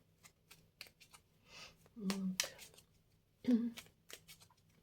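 Soft papery riffling of tarot cards being shuffled in a few bursts, with a quiet voice murmuring underneath at times.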